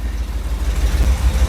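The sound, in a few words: 1979 Dodge Ramcharger engine idling with aggressive exhaust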